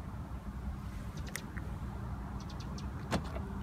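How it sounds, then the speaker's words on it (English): A 2015 Mercedes-Benz SL400 roadster locks from the button on its door handle, giving a couple of faint mechanical clicks and a brief whir over steady outdoor background noise. "press the button on the door handle once to lock"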